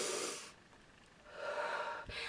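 Close, soft breathing during a square breathing exercise: one airy breath, a short pause, then a longer, slow controlled exhale, with no talking.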